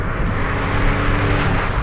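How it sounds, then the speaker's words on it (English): A Ford Fiesta MK5 from 2002, fitted with an induction kit, drones with a steady, deep engine note that sounds close and loud and holds for about two seconds without a break. "my engine might seem a bit different or deeper than usual. That's because I fitted an induction kit on it"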